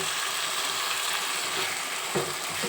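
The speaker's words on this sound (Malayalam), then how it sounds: "ഇനി നമുക്ക് ഈ ഒരു പരുവാകുമ്പോൾ ചിക്കൻ ഇട്ട് കൊടുക്കാം ഇനി നമുക്ക് കുറച്ച് തൈരും കൂടെ ഒഴിച്ചു കൊടുക്കാം" Chicken pieces and yogurt hiss and sizzle steadily in hot biryani masala in a pan, a dense, loud and continuous frying sound with a faint scrape near the end.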